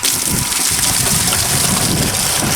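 Water gushes steadily and loudly from an Acquaer 1/2HP shallow well jet pump outdoors, a dense continuous rush with no voices.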